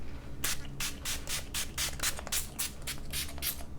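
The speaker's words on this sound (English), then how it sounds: "I'm just going to go ahead and spray." Repeated short hissing bursts of a facial primer water spray pump, about a dozen quick spritzes in an uneven rhythm, close and clear.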